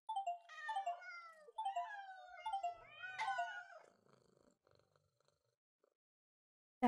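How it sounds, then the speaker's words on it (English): A cartoon cat in the Hidden Cats in London video game gives a string of clear, close, drawn-out meows, several in a row with rising and falling pitch, then fades to near silence. "That one meow that it does actually slightly startles me and makes me feel like I'm hurting it."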